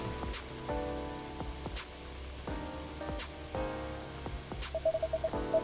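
Rain patters steadily through a scene of the video game Coffee Talk 2, mixed with soft game music chords and a short run of bright electronic beeps near the end.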